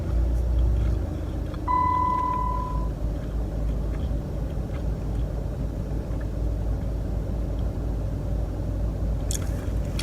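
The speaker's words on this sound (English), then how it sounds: "I'm gonna turn my car on so I can turn the air on" Idling car engine with air conditioning on low gives a steady low rumble and airy hum filling the cabin, a brief tonal beep early on and a soft click near the end.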